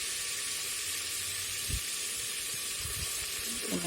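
A tomato added to a frying onion masala in a pan, with a loud steady sizzle and a few stirring clatters, without speech.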